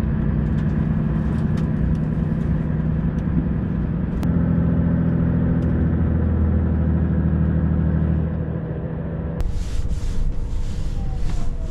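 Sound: Volvo FH540 truck driving in Norway

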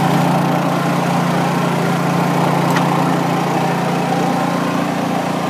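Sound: generator running

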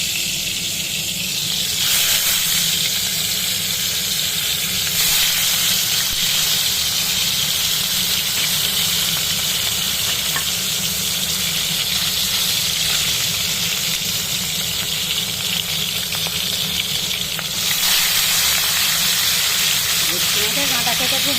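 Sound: bhetki fish bones frying in hot oil

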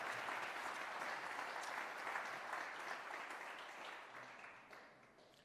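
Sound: audience applause at awards ceremony

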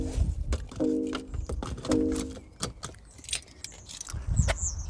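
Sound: fastening a car seatbelt buckle in a BMW i3

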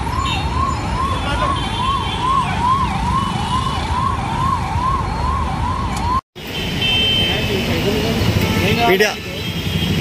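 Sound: ambulance siren

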